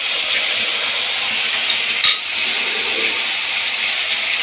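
Ginger, cumin and green chili paste sizzles in hot oil with a steady, bright hiss, broken by a brief clink near the middle.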